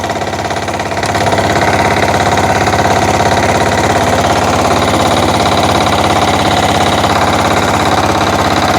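A Motor Sich or WEIMA single-axle walk-behind tractor engine runs in first reduced gear with the differential locked. It gives a loud, steady, throbbing drone that starts slightly softer and then holds an even level throughout.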